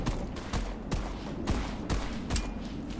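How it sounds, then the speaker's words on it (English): Shotgun blasts in a first-person shooter game, five or six heavy booming shots at an uneven pace of roughly one every half second, loud and close over a steady game background. "Okay, good shotgun. Very good shotgun."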